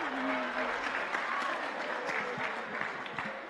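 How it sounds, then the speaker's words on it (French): Applause rises from an audience at an evangelical church campaign, a dense, steady patter of clapping that holds for several seconds, with a voice briefly audible over it. "Nous applaudissons Lovely plus passer ici"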